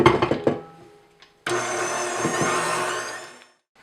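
An electric stand mixer with a paddle attachment beats cupcake batter for maple bacon cupcakes, starting after a few clinks with a steady, loud motor whir lasting about two seconds before spinning down to silence.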